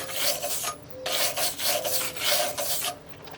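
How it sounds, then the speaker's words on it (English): Rasping, scraping strokes of slag being cleaned off a fresh flux core weld made with a Chicago Electric 90 amp welder, several close, loud bursts in quick succession with brief pauses between. "let's just clean off some of this slag and take a look at what the first weld looks like"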